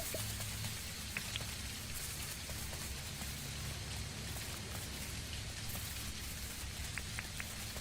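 Steady rain pours down in Dinkum, a constant hiss of drops on surfaces with scattered sharper ticks, heard alone at a quiet, even level.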